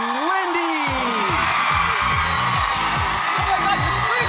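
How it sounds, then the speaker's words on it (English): Studio audience at a daytime talk show screams and cheers loudly for the host's entrance, a dense continuous roar of crowd noise with whoops, while a voice speaks over it. "Oh, the screams! The screaming of it all!"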